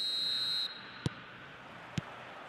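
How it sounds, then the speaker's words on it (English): A referee's whistle in the eFootball 25 football video game, heard as two short, sharp blasts about a second apart over a steady crowd murmur after a high tone cuts out. "There's the whistle."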